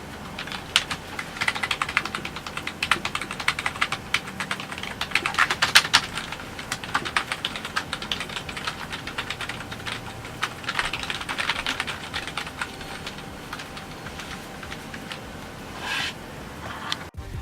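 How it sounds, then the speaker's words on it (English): Typing on a membrane gaming keyboard with RGB lighting makes a continuous run of soft, dense key presses. The presses come in irregular bursts with brief pauses and are heard up close with no talking. "Here's a little typing session for you guys so you guys could hear."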